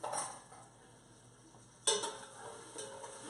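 Food sautéed in a pan gives a soft steady sizzle with light stirring scrapes, and a sharper clink of utensil on pan comes partway through; the sound is quiet and close.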